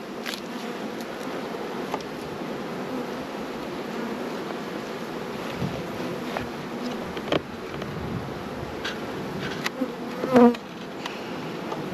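Honey bees buzz steadily around an open Langstroth nuc hive, a continuous close drone with faint clicks of handling and a brief louder knock near the end.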